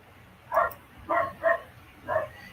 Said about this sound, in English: Those are not my dogs. It's my neighbor's dogs, in case you're wondering.